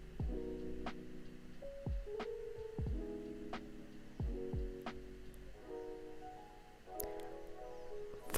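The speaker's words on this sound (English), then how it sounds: "this is the double needle in action in the normal sewing machine" A home sewing machine fitted with a double needle runs a straight stitch on t-shirt fabric in short repeated bursts, with light clicks between runs, close and fairly quiet.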